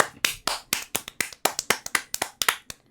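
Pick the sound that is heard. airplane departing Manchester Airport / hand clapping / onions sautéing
hand clapping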